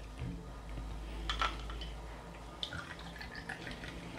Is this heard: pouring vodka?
yes